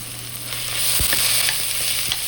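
Onions and asafoetida fry in hot oil in a kadai for Himachali-style chole, giving a close, steady sizzle with a few scraping stirs and no voices.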